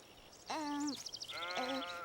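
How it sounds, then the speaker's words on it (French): Sheep on a farm bleat twice at close range, each a loud, wavering cry separated by a brief pause, with no talking. "Des moutons!"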